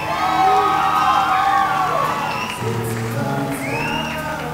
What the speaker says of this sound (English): The crowd really went wild over that last fight